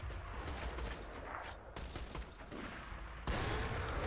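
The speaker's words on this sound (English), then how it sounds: "I can hear Mordecai firing." Sustained gunfire from Mordecai's weapon in the video game Borderlands 2, a dense run of shots under game noise, with a louder burst near the end.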